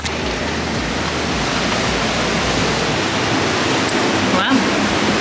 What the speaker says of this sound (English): look at the crazy ocean